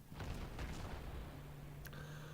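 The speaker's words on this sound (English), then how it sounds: "my AAs are opening up" Anti-aircraft guns open up aboard the cruiser Mikhail Kutuzov in World of Warships, a few quick muffled pops and bursts at the start over a low steady hum, then a brief sharp crack near the end, fairly faint.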